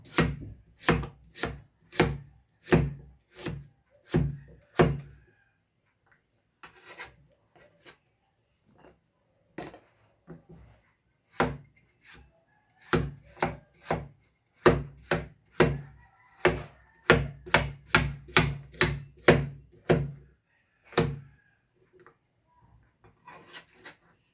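Vegetables are chopped on a board while prepping a chayote and shrimp dish: bursts of quick, crisp knife strikes come close and loud, separated by brief pauses, then continue in a steady rhythm.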